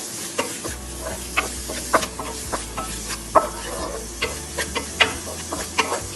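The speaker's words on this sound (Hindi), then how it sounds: "इसको अच्छे से भूनना है" Grated carrots sauté in butter with food colour and cardamom for gajrela. Close, regular stirring strokes scrape through the pan over a low, steady sizzle.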